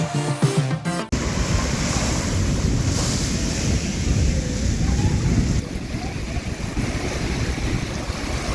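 Ocean surf at a beach in Jamaica, a steady broadband wash of waves with wind buffeting the microphone, loud and continuous after a brief burst of other sound at the start.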